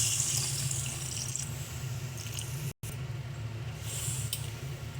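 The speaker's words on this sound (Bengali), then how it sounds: "এবার দিয়ে দেবো পরিমাণ মতন জল।" Water poured into a pan of spiced tomato-onion gravy with melted tomatoes, cooked for amudi fish curry; a steady, close splashing rush runs throughout, with one brief cut near the middle and no talk.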